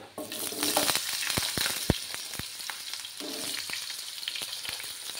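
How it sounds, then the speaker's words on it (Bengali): Diced potatoes sizzle steadily in a hot pan over a lowered gas flame, with occasional stirring clinks and scrapes, close and continuous. "এখন আমি গ্যাসের আঁচটা কমিয়ে আলুগুলো দিয়ে দেব।"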